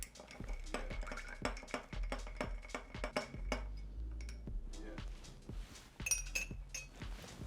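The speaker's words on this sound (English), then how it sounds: "now we're gonna stir for 5 to 10 seconds" A Negroni cocktail is stirred in a mixing glass with a bar spoon, giving a steady run of close, bright clinks as the spoon and ice rattle against the glass, alone without talk.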